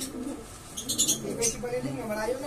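A young racing pigeon just back from a derby lap coos softly in a few short, low bursts, close by but faint, with brief higher chirps mixed in over quiet background noise.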